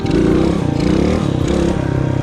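Motorcycle engine revving with the clutch pulled in, a loud, close, throbbing exhaust note rising and wavering over a couple of seconds.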